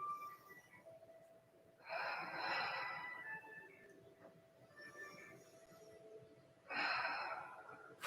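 Two slow, airy breaths during a vinyasa yoga flow, a long exhale and a later inhale separated by quiet, soft and close in a still room with no talking.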